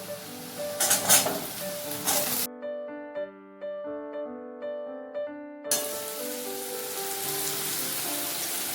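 Carrots and other vegetables hiss and sizzle as they stir-fry in a wok for chow mein. The frying sounds fill the opening seconds and return near the end, with a short stretch of music in between.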